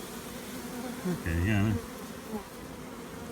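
Honey bees buzz around an open hive during an inspection, a dense steady hum that swells louder for a moment midway, with a brief spoken word.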